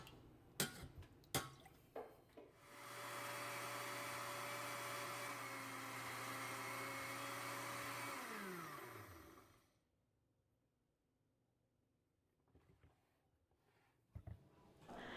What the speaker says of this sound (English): I'm going to place them into the blender, and then I'm going to add a 1/3 cup of water so that they can blend and puree.